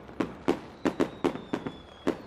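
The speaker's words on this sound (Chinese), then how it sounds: "这烟花应该是贾坤他们放给艾琳的吧？" Fireworks going off outdoors at night: about eight sharp bursts in an uneven rhythm, some in quick pairs, each a crisp crack with a short fading tail, heard alone.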